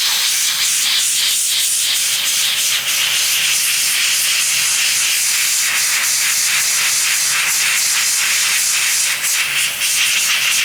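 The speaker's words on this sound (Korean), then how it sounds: "한 번에 너무 한 군데만 칙 하고 뿌리는 게 아니라 얇게 얇게 얇게 여러 군데를 가주는 거예요." Aerosol can spraying white paint in thin, light coats, a steady close hiss running without break throughout, faint rhythmic pulses as the nozzle sweeps across.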